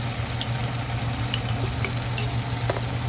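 Garlic sizzles in hot oil in a pan, a steady close frying hiss with a low hum beneath and occasional light pops, no talk.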